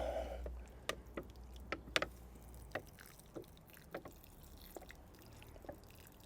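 Water from a watering can falls onto plants in a garden with bamboo, heard as scattered soft drips and splashes at irregular intervals over a quiet outdoor background.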